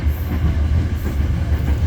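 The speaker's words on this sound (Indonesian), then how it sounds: "beberapa kali kita akan berpapasan dengan kereta batubara rangkaian panjang" A long Babaranjang coal freight train passes close by, a steady loud rumble of heavy wagons rolling on rails with continuous low clatter and no voices.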